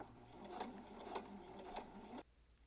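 A sewing machine runs faintly, stitching a slot seam at a 5/8 seam allowance, its soft rhythmic whir and periodic clicks lasting about two seconds before stopping.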